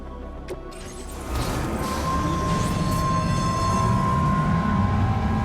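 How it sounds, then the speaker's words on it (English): A monorail train in the video game Death Stranding 2 rumbles steadily after dispatch, a low continuous roll swelling slightly after the first second, with a thin sustained whine above it and no talk. "A monorail train is currently in operation."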